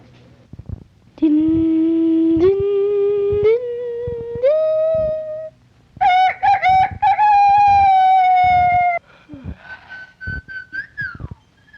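A rooster crowing on an old 16mm film optical soundtrack: long, tonal, crow-like calls that rise in steps and hold, then a higher strained call, with scattered clicks and crackle around them.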